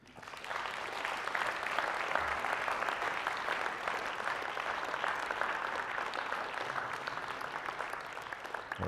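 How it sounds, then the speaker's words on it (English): Audience members at an event applaud a group, a steady, moderately distant round of clapping that swells in and carries on evenly throughout. "So guys, clap it up for this group."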